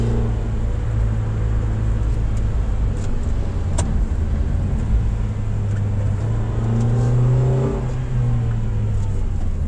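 A 2023 Toyota Rush GR Sport SUV accelerating through its gears in manual mode, a steady engine drone under cabin rumble with a rising surge toward the end.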